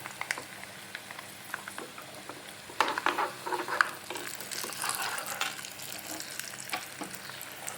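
Asafoetida and tempering spices fry in oil for an arai keerai sambar, with a soft crackling sizzle that grows busier partway through, plus faint scattered pops and stirring clicks.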